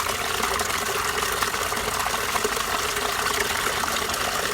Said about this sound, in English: I'm going to take a drink from the water fountain.